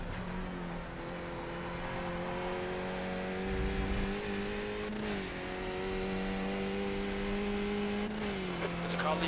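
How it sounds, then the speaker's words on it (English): Skip Barber race car engine in iRacing, a steady high drone that climbs and dips through gear changes, near and continuous, with another car's motor briefly mixing in as it leaves the pit lane. "There's a car leaving the pit lane."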